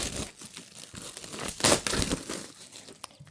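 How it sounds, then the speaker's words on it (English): Plastic packaging wrap around a folding portable lap desk being cut open and pulled apart, steady close crinkling and tearing throughout, peaking in one loud rip midway. "And then let's cut into this plastic a little bit."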